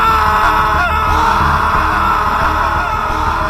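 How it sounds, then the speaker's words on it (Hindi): Two men scream in a train compartment as a horror story sound effect, a loud, sustained, strained wailing that fills the space over a dense, rumbling background. "उनकी चीखें कंपार्टमेंट में गूंज उठी"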